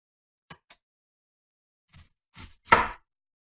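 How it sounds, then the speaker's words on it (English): A knife cuts through an onion on a board for a budget mock-lobster wrap: two small light taps, then three louder chopping strokes that grow heavier toward the end, close by with silence between. "let's cut the onion right here"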